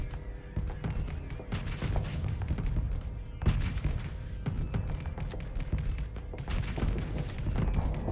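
Mortars firing in the space combat game Starsector, a dense run of heavy booming thumps and impacts coming in quick irregular bursts over a constant rumbling battle din, loud and close.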